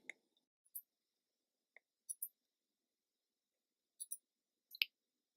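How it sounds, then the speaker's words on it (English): Computer mouse buttons clicking while working in Blender, with a handful of faint, crisp single and double clicks spaced apart in near silence. "click the right mouse button to make multiple selections"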